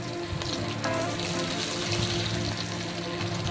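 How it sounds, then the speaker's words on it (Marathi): Mashed boiled potatoes fry in hot oil in a kadhai, giving off a steady, soft sizzle that continues without a break. "तेल नॉर्मली आपलं गरम झालं आहे आणि त्यामध्ये मी मॅश केलेले बटाटे ॲड करते"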